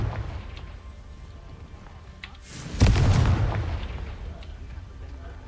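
A Confringo blast spell in a video game bursts out as a sudden loud boom partway through, a broad crackling explosion that decays slowly over a low background hum.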